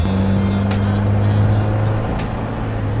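A 1970s-style MG Midget MkIV British roadster pushed faster around a corner, its engine a loud, steady droning hum heard from inside the car with a faint tick or two.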